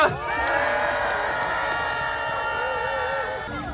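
A crowd at a workers' labour-struggle rally cheers and shouts in a sustained, echoing roar with some clapping mixed in, loud and continuous before fading slightly.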